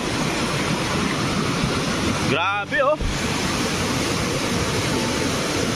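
Strong ocean waves crash and roar continuously at close range, a loud, steady wash of surf, with a brief excited voice breaking in near the middle.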